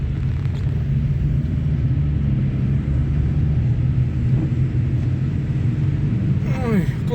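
A car drives through Kramatorsk on a snowy spring day, a steady low road and engine rumble filling the whole stretch from close by, with no clear breaks.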